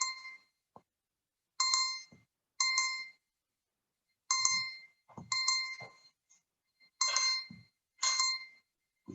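A mobile phone ringtone goes off during a live mindful breathing and meditation class, playing a bright chiming melody in short bursts repeated about eight times with brief gaps, fairly quiet and with no talk over it.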